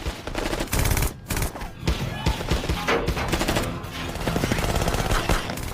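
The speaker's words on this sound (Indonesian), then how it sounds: "Kemudian terjadilah baku tembak dengan Vero dan anak buahnya" A film shootout fills the scene with dense, rapid gunfire, overlapping shots and machine-gun bursts rattling almost continuously at loud volume.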